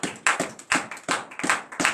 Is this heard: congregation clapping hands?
yes